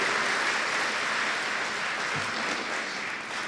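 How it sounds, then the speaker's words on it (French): Steady applause from the audience at a transport company's inauguration, an even wash of many hands clapping that holds at a constant level and eases slightly near the end. "On peut les applaudir"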